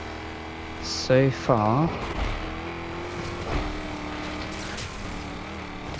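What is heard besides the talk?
Lamborghini Murcielago engine racing in a video game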